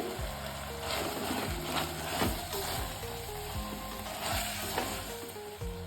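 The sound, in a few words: curry leaves sizzling in hot oil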